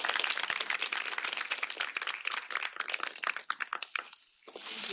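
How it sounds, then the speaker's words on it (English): Audience applause for three panelists at the close of a mock study section panel discussion, dense and sustained clapping that thins out and briefly dips near the end before swelling again. "We could give our three panelists a round of applause."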